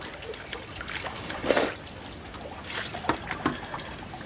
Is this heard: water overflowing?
yes